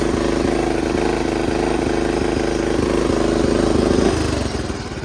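A riding lawnmower engine idles in neutral with the parking brake set, a loud, steady mechanical drone close by that holds even for several seconds before easing slightly at the end, with no talking.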